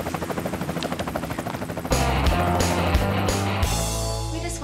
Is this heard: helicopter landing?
yes